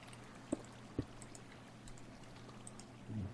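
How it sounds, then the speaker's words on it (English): Water buckets emptied in Minecraft: a few short splashy pours, two quick ones early and a longer gush near the end, over a low steady hum. "Alright, water buckets."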